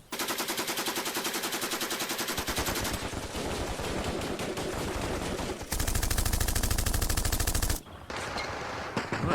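Rapid, continuous machine-gun fire rattles loudly and steadily in the John Tiller Panzer Campaigns wargame, changing tone in a few separate bursts with no voices over it.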